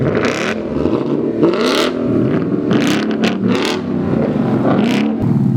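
A Ford Mustang with a Corsa exhaust revs hard and close, its loud engine note rising and falling in repeated surges with a raspy, rumbling tone, and no voices over it.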